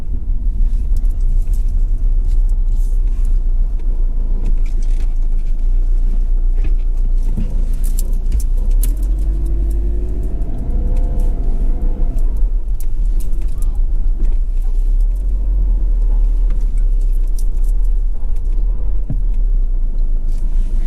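A car reverses slowly into a driveway, its engine giving a steady low rumble close by throughout, with faint interior rattles and no talk.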